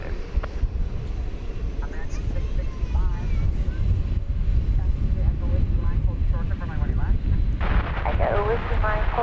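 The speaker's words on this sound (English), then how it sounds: "Clear takeoff on Air France" An Air France airliner roars down the runway on takeoff at Dallas Fort Worth airport, a loud continuous broadband rumble heard with wind buffeting the microphone and radio-style voices talking over it.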